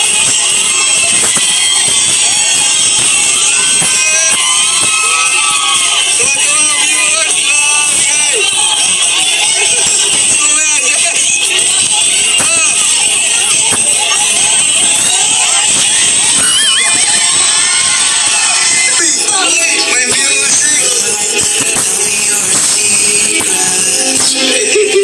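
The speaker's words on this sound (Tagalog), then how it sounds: "At hiyawan ang mga supporters at nagmamahal sa kanila." Supporters at an anniversary celebration cheer and shout in a loud, continuous crowd roar, with screams and babble layered over music, steady and close throughout.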